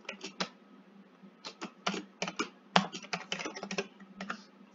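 Quick bursts of typing on a computer keyboard while entering a username and password, crisp close keystrokes in uneven clusters with brief pauses between.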